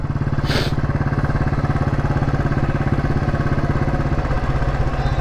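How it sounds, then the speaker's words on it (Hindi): A restored, customised Royal Enfield Classic 350 engine thumps steadily and loudly while the motorcycle is ridden, a continuous low throbbing pulse with a brief hiss of wind near the start. "बट सुपर भाई Sandeep, all in all very good bike"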